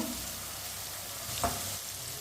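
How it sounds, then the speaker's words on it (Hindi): Tomatoes cook in a hot pan for a Punjabi turnip curry, with a steady close sizzle and a short stir sound midway. "टमाटर डाल के थोड़ा सा लाजमी पकाएं।"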